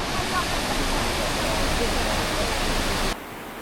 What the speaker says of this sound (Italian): Sono arrivato alle Golden Waterfall, chiamate così per il colore giallastro